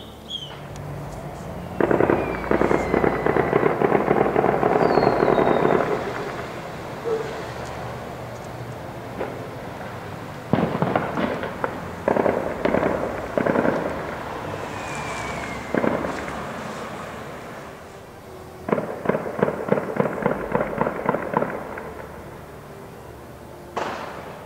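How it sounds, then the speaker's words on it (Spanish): Rapid bursts of celebratory gunshots on New Year's Eve crackle in clusters across the distance, echoing over Ixtlán del Río, Nayarit, with pauses between volleys and occasional single reports. "Prácticamente en toda la ciudad podemos escuchar estos disparos."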